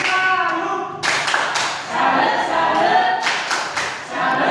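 A school class claps hands in a few short, sharp bursts of rhythmic group clapping, separated by brief pauses and murmuring voices, close and fairly loud in a classroom.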